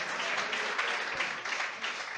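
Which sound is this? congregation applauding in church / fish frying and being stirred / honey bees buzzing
congregation applauding in church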